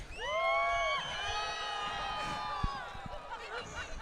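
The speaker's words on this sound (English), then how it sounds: "Give us a round of applause." A crowd at a Canterbury Park game contest cheers and whoops with raised, sustained voices, fairly close and loud, with a few sharp knocks near the end.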